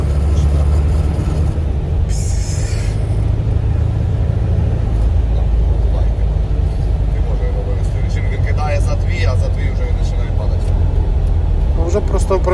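A Zetor tractor fitted with a MAN engine accelerates onto the road with a loud, continuous low diesel roar and rattling from the cab, while people talk over it.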